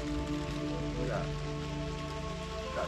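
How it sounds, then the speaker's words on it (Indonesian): Light drizzle falls during a mountain hike on Gunung Lawu, a soft continuous patter of rain under a steady low hum, with faint voices in the background. "Gerimis aja ya."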